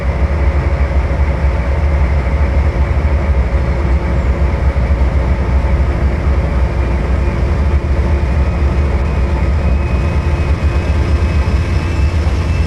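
A powerful locomotive hauling a 27-car train drones loud and steady as the throttle is raised, a dense continuous low engine rumble with a faint rising whine, no voices.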